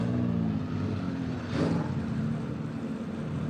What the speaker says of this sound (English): The GT3 cars roar to life.